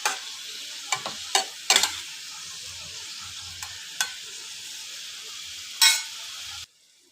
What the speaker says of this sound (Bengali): দেখো আমার বেগুনগুলো ভাজা হয়ে গেছে